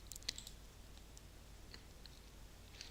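Computer mouse clicks at a desk while working in SAP Business One 9.1 accounting software: a few faint, sharp, close clicks scattered over a quiet background, with a louder click at the very end.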